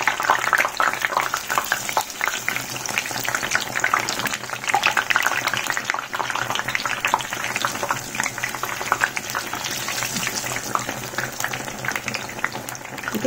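Stuffed bread pakora frying on its second side in hot oil, a steady, dense crackle and bubble running continuously and fairly loud throughout, with no voice.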